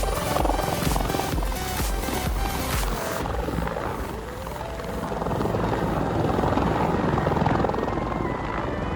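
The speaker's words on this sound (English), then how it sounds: "Rescue helicopter." A rescue helicopter flies overhead, its rotor producing a loud, rhythmic thudding chop that eases briefly in the middle before swelling again, steady and dominant with no voices.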